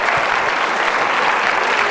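Audience applause at a live stage hypnosis show, a steady dense wash of many hands clapping at once, loud and sustained throughout without any speech over it.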